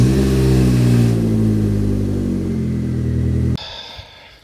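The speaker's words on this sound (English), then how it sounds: "I will start the car and check for leaks." A car engine idles steadily and loudly after an exhaust repair done without welding, a low, even rumble from close by that holds for several seconds and then cuts off abruptly.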